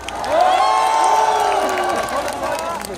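Crowd at a candlelight rally in Gwanghwamun demanding President Park Geun-hye's resignation, cheering and clapping loudly in a sustained wash, with shouted voices rising over steady applause.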